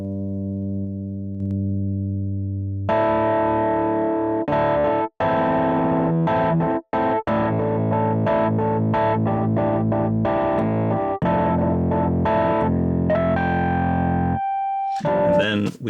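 A software electric piano plays chords and notes through gritty overdrive distortion, sustained and loud, with a quick run of higher notes near the end.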